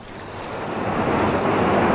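Sea waves rolling in and foaming up a beach toward the dunes, a broad rushing surf swell that builds steadily louder over two seconds, with wind noise and no voices.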